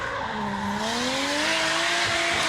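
1JZ-powered Nissan S14 race car drifting in British Drift Championship pro qualifying, its engine revving and rising in pitch over a continuous loud tyre squeal.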